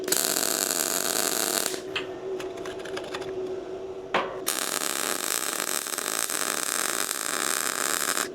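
A Bestarc welder runs at 145 amps on 1/8 inch, 11 gauge steel, producing a loud, steady crackling hiss that breaks off briefly, with a few clicks and a faint hum in the gap, then resumes at full intensity.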